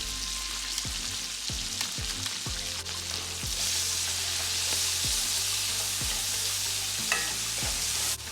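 Mushrooms and peas sauté in butter with dried thyme, salt and pepper, a steady close sizzle broken by about ten regular scraping stirs of a utensil across the pan, no voices.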